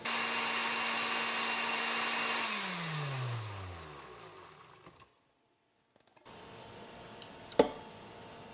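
A kitchen blender with about half a cup of water runs at a loud steady whir, then winds down with falling pitch and stops; after a brief silence a quieter hum returns with a sharp knock near the end.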